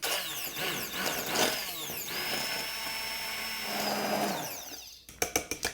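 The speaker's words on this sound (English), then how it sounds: "we're just gonna blend them with an immersion blender" An immersion blender whirring through ham and potato soup, its motor rising to a sustained high whine, then cutting off, followed by several sharp taps.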